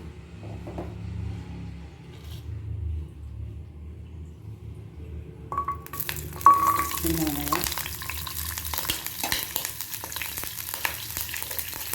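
Green chilli, ginger and garlic sautéing in a small pan for a street-style chutney, starting quiet with low rumbles, then a sudden steady sizzle and frying hiss from about six seconds on, with stirring scrapes.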